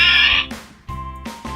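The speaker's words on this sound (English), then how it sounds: "That's what a pig sounds like." Pig oinking in short grunting bursts, a few close, clear snorts separated by brief pauses, with a brighter tone at the start.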